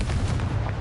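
A Confringo blasting spell explodes in Hogwarts Legacy: a loud, dense burst with a deep rumbling low end that fills the whole short moment without a break.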